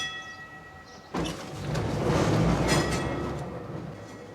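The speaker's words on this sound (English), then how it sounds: "but the tram still runs" A tram in a former diamond-mining city rolls along its rails, a rising rumble of wheels and car noise building after a second of quiet and holding steady, fairly near.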